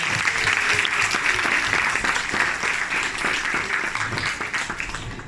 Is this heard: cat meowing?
no